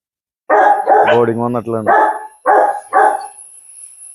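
A three-month-old male native mixed-breed puppy gives a quick string of close, loud yips and barks, with a few more short barks after a brief pause, while a person talks nearby.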